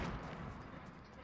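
Gunshots from a Fortnite shotguns-only match sound as a dense, booming wash of firing under a talking player, loud throughout this short moment.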